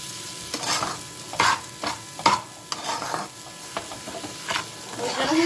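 Sugar and moong dal roast in a pan for halwa, a spoon scraping and stirring through the mix in repeated strokes over a soft, steady sizzle, close and moderately loud with no talking.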